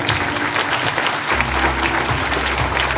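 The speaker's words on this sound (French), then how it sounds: "vous pouvez l'applaudir" Audience applause rings through a hall at a Miss 15/17 national election pageant, a thick, continuous clapping from a large crowd with a low hum entering partway through.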